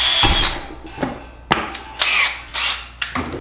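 A power drill spins to straighten stainless steel wire in repeated short whirring bursts with brief pauses between, close and fairly loud, with no talking.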